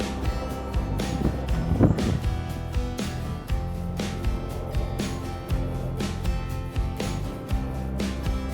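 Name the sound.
strong wind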